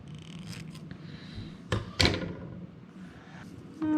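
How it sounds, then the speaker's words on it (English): Scissors cut thread in two sharp, close snips, with faint handling rustle around them. "I'm going to cut the thread for the USA now."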